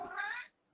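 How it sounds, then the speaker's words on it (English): A cat gives one short, faint meow lasting about half a second, alone and close. "It's a cat"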